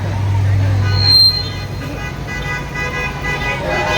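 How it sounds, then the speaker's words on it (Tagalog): Car horns honk repeatedly at a street rally near the EDSA Shrine, blaring amid traffic and crowd noise, with people talking throughout. "Ayun, busina."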